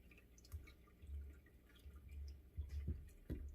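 Whey drips and trickles from goat milk farmers cheese as it drains, soft irregular wet drops and small splashes, quiet and close with no talking.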